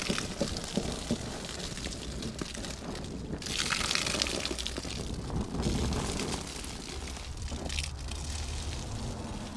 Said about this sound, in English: I'm just going to dump more water on it.